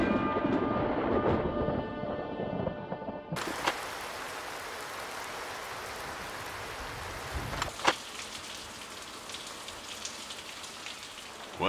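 Rain falls in the video game Farming Simulator 22, a steady hissing downpour with scattered drops, preceded briefly by a different tonal sound before the rain takes over and carries on alone.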